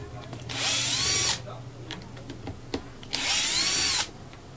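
A Bosch GSH 11 E demolition hammer with a slipping clutch runs in two loud sustained bursts, each about a second long, with quieter clicks and taps between them.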